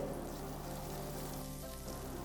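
Chopped onion frying in hot oil with spices in a pan: a soft, steady sizzle, faint and continuous, with a low hum underneath and no talking.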